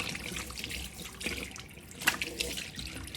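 Cold tap water runs into a sink while someone splashes and washes their face, with irregular splashes and drips over a steady trickle, close and moderately quiet, without speech.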